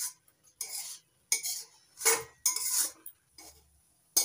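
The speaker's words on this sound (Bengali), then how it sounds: "পাক দিয়ে নিতে হবে ভালো করে" A spoon scrapes and stirs a thick sweet sugar mixture in a pan over low to medium heat, giving repeated close, bright metallic scraping strokes separated by short pauses.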